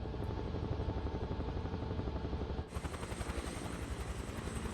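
A drone hovers and flies over a Waterloo battlefield site near the La Haye Sainte farm, giving a steady, pulsing rotor buzz that holds close and constant throughout.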